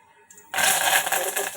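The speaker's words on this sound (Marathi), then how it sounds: "कढीपत्ता आपलं तडतड घेतलं" Curry leaves hit hot oil already holding cumin and mustard seeds and burst into a loud, close sizzling crackle that starts abruptly and keeps spitting.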